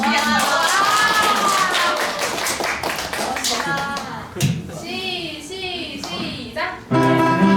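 A church congregation at a Sunday worship service claps together for a friend, with brisk applause under a leader's talk and children's voices.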